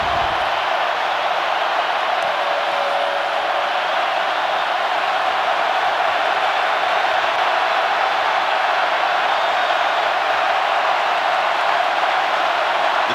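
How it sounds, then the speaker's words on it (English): An Ole Miss Rebels vs Tennessee Volunteers football stadium crowd roars as a loud, steady, unbroken wash of massed voices that holds without letup, with no distinct speech. "and listen to this crowd now"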